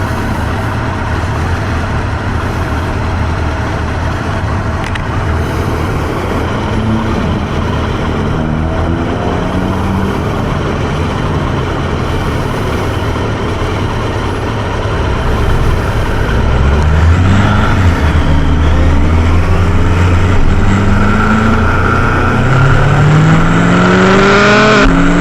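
A Kawasaki GTR1000 motorcycle with an Australian-made exhaust runs loud and close, its engine droning steadily before rising and revving higher through gear changes in the latter half.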